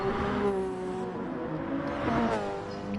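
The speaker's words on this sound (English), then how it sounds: "Chirito definitely revving out his Porsche" A Porsche race car engine in a racing video game revs and drones steadily, its pitch rising and falling across a continuous, fairly loud tone with no voices over it.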